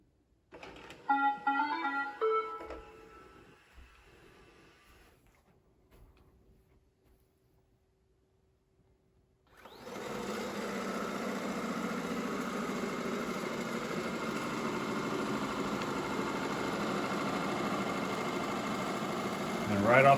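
A Shark IQ robot vacuum on its standard setting switches on after a quiet stretch with some earlier clatter, then holds a loud, steady whirring hum.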